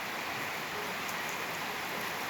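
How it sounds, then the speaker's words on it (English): Rain falls outside on a summer day in Cape Town, South Africa, a soft, even, continuous patter with scattered droplet taps and no voices. "it's like a summer rain"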